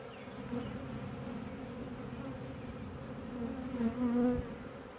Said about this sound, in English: This bee here is not healthy at all.